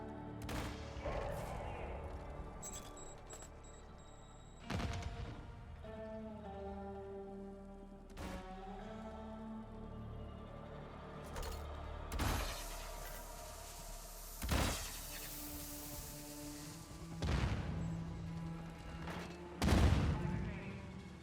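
Gunfire in Call of Duty Warzone 2.0 ranked play, a series of sharp separate shots spread across the stretch under ongoing game sounds and a talking voice, with a few louder bursts near the end.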